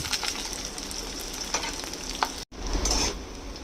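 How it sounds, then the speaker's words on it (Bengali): Onions frying in mustard oil in a wok, a steady close sizzle with occasional spatula scrapes, briefly cut off before resuming, and faint birdsong in the background. "পেঁয়াজটা ভাজা হয়ে গেছে"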